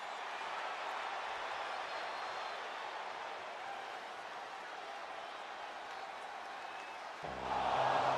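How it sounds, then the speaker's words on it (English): Steady crowd buzz fills an arena in the WWE 2K25 wrestling game during a women's championship storyline, a constant low roar swelling into louder cheering and applause near the end. "this crowd is buzzing over that"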